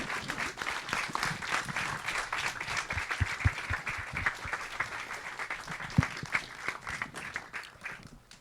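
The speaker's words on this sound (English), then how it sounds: "Are you applauding because you're relieved that it's over?" An audience at a film screening with a moderated discussion applauds in steady, dense clapping, heard at moderate distance and fairly quiet.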